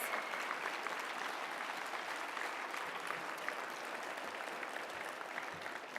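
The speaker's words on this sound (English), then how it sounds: "one more round of applause for the 2018 Bryden Alumni Award recipients" A large audience applauds steadily at an alumni awards ceremony honoring the 2018 Bryden Alumni Award recipients, a dense, even wash of clapping sustained throughout without pause.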